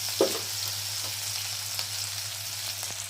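Garlic-chili paste fries in hot oil with crackled mustard seeds, curry leaves and cumin for a ridge gourd curry. A loud, steady close sizzle continues, with a sharp spatter and light stirring scrapes.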